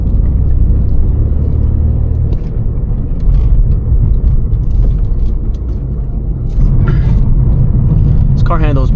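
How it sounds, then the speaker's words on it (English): Loud, steady low road rumble and engine drone from a BMW F30 328i being driven, continuous throughout with a brief squeal near the end and occasional voices mixed in. "This car handles beautifully."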